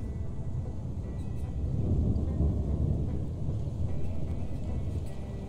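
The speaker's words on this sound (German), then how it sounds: "Was donnert denn da so?" Low rolling thunder rumbles in the survival video game Stranded: Alien Dawn, a sustained deep roar swelling midway and fading, with faint rain-like hiss beneath.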